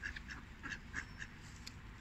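Ducks at a lake quack repeatedly while being fed, a series of short nasal calls spaced through the stretch over steady outdoor background noise, with no talking.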